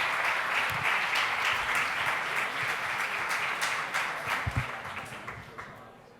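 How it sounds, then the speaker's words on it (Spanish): A room full of listeners applauds after a speaker is introduced at a talk on superabsorbent, biodegradable matrices; the clapping is dense and sustained, then thins and fades toward the end as scattered claps remain. "Un aplauso muy grande."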